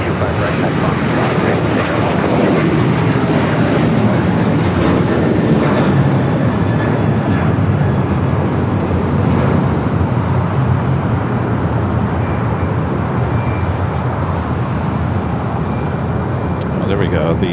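Airliner in Seattle Kraken special livery at Los Angeles International Airport, a steady loud jet roar filling the whole stretch with no letup, traffic noise mixed underneath.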